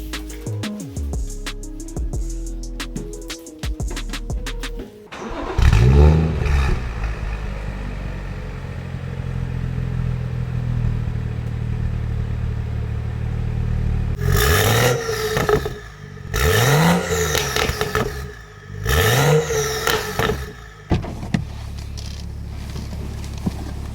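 A BMW's engine revs after its exhaust valve rattle has been fixed: a clattering start, then a steady idle broken by three sharp, rising revs near the end, fairly loud and close with no talking.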